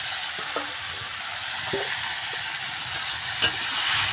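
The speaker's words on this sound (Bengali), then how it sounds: "এবার দেখো লটিয়া মাছটা আমি দিয়ে দিলাম" Lotiya fish dropped into a hot pan and frying, a loud steady sizzle and hiss running throughout with a few light clinks and stirring scrapes, close by and with no talk.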